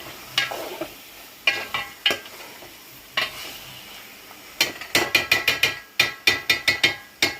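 Fish pieces being stirred into curry in a metal pan, a spoon scraping and clinking against the sides in quick bursts that speed up toward the end, with soft sizzling underneath.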